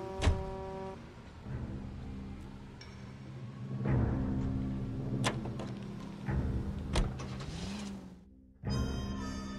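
Car sounds from the L.A. Noire Traffic Desk case: a steady engine hum with clicks, a couple of sharp horn-like toots and door thumps, then a brief drop near the end before the motor noise returns.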